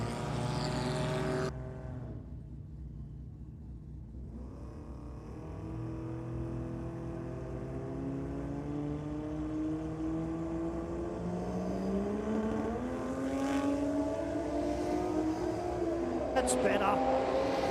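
A nitrous-assisted Barra-engined drag car on radial tyres launches down the strip at Sydney Dragway, its loud engine note climbing through rising gears over a long run while an announcer talks throughout.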